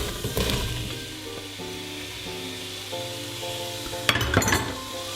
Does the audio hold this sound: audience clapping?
no